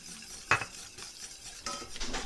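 A spoon stirs a heaping tablespoon of Nescafé into boiled water to make a coffee syrup for a cheesecake glaze, with a sharp clink against the container at the start and softer scraping swirls afterward.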